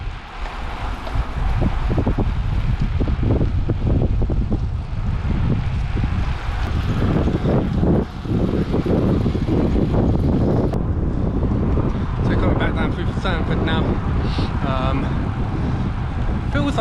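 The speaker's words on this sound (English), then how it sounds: "Feels like we should have the wind behind us, but I don't think we have." Strong wind buffets a microphone on a bicycle ride through the Dorset countryside, a loud, steady roar that fills the whole stretch, with voices occasionally under it.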